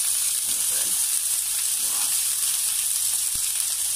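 Steak frying in a hot pan gives a steady, close sizzle and hiss throughout, with faint crackles and one brief tap near the end.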